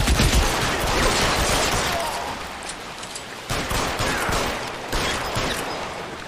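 Heavy gunfire in the L.A. Noire sewer shootout, with military-grade weapons firing in dense, continuous bursts that stay loud throughout and surge again in sharp volleys partway through.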